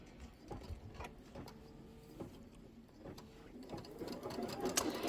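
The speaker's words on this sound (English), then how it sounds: "So I'm going to go ahead and do this first stitch out." An embroidery sewing machine stitches out a quilted border over batting on a Kimberbell Sweet as Pie quilt. Its motor whirs and its needle taps steadily up close, with no talk.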